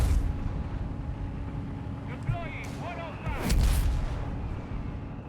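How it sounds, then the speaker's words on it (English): Bazooka fire hitting a Panther tank in Company of Heroes 3, heavy booming blasts and rumbling impacts with whistling streaks, over a dense battle din and a voice talking beneath. "Panther 4 though is getting absolutely plastered with bazooka fire here."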